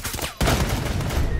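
Sudden burst of loud video game gunfire in a tactical shooter match, a dense fusillade erupting after a brief quieter moment and continuing as sustained rapid shots.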